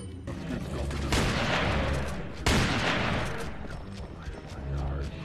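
Pistol gunshots in a Resident Evil 4 mod, two loud booming shots about a second apart, each with a long decaying echo, over a dense background of game effects.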